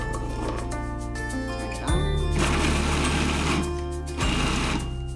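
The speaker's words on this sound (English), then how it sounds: "I'm gonna cheat a little bit and use my food processor" A food processor chops shelled edamame in short pulses: a loud, close motor whir with a steady mechanical hum surges on, cuts briefly, then kicks back in, with no talking.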